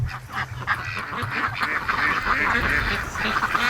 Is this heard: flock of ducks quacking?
yes